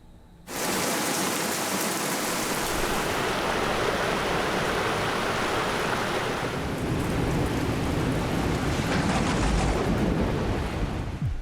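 Floodwater rushes through a mountain area during monsoon rains, a loud, dense, continuous roar of water and downpour that starts abruptly and holds steady, with no voices.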